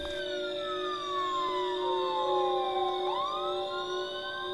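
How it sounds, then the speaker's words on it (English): Police sirens in the Friday the 13th video game wail steadily with rising and falling tones, loud and continuous throughout, with no other sounds over them. "I hear the sirens."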